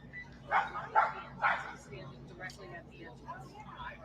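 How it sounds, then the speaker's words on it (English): A dog gives three quick yapping barks close together, then fainter whimpering yips follow, all fairly quiet beneath an indoor hum. "Oh, I hear a dog barking."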